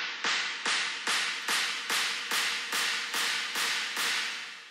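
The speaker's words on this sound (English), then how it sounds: "I'm just EQing it and putting some reverb on it." A boot clap sample treated with EQ and reverb repeats as a run of about ten evenly spaced bright claps, each with a washy reverb tail running into the next. No talking.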